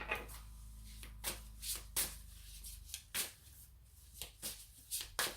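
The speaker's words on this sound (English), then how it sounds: "As I shuffle the cards" Tarot cards being shuffled by hand in a series of quick, crisp riffling bursts, each a short papery flutter separated by brief pauses, close and fairly soft with no talking.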